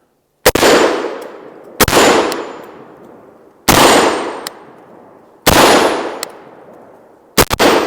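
Shots from a CMMG MK57 rifle striking a steel rifle-rated spinner target, five sharp ringing metallic clangs spaced a second or two apart, each fading with a long resonant decay, the last two close together, with no talking.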